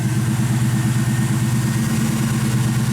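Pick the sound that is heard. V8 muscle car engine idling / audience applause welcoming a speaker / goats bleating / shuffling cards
V8 muscle car engine idling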